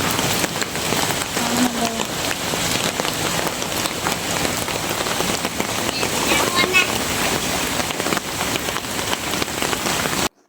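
Heavy rain pours steadily onto surfaces around a flooded home, a dense, unbroken hiss and patter that stays loud throughout with faint wind noise mixed in.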